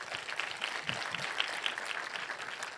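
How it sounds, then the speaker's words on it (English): An indoor conference audience at a Swift developer event gives a sustained round of applause for the event's sponsors, a dense, even patter of many hands at moderate volume throughout. "Round of applause."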